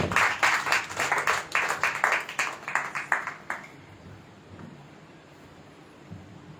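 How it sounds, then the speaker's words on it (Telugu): Audience applause greeting a speaker at a Telugu Christian gathering, a burst of many hands clapping loudly at first, then thinning and fading out after a few seconds into quiet room tone. "మనందరం కూడా చప్పట్లు కొట్టి వారి ప్రేమతో ఆహ్వానం తెలియచేద్దాం"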